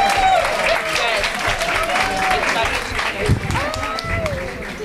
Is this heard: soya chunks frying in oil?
no